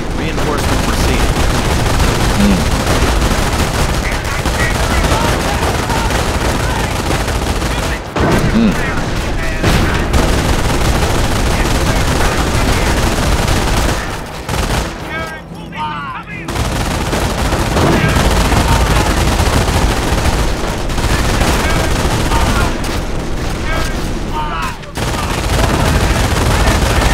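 Sustained machine gun fire and explosions in Company of Heroes: Tales of Valor, dense rattling bursts almost without pause, loud and close, with brief lulls and booms mixed in.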